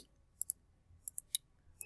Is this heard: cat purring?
no